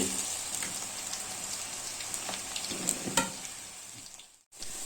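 Vegetable pakoda batter fries steadily in hot oil, a dense continuous sizzle and crackle with occasional sharper pops, close and fairly loud, ending in a brief cut-off.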